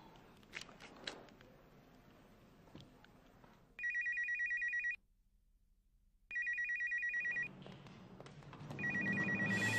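A telephone rings in two long electronic bursts separated by a silent gap, with a third ring starting at the end; faint rustling and movement precede the first ring.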